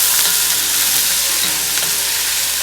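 Chopped onions sauté in a pan for an egg curry, giving a steady, loud broadband sizzle with faint stirring scrapes underneath, continuous throughout with no voices.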